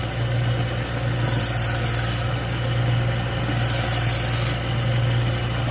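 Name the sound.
knife being stropped on a sander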